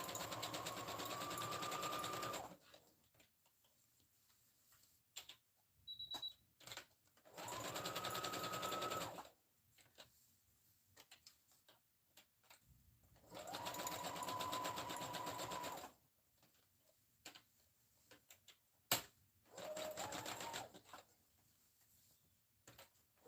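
A sewing machine stitches back and forth across elastic in loud bursts of a few seconds each, separated by quiet pauses with small handling clicks, close up and without talk.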